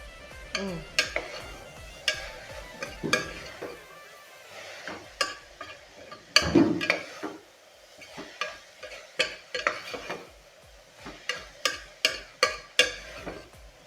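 Onion sautéed with ginger garlic paste in a pressure cooker for beef curry, with repeated sharp spoon scrapes and clinks against the metal over a soft sizzle, close and rhythmic.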